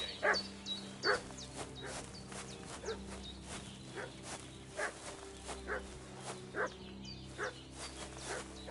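A dog in Kingdom Come: Deliverance II barks repeatedly, in short sharp bursts every second or so. The barking sounds a little distant and sits over a faint insect-like ambient hum, with no talking.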